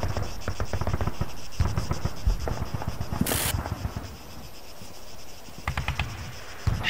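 In a military shooter game, a rapid burst of automatic rifle fire rattles near and loud, followed by scattered single shots and mechanical clicks at a lower level.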